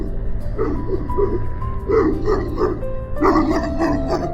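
A dog barks in a short, uneven series of yips over a steady mechanical hum, fairly close and moderately loud.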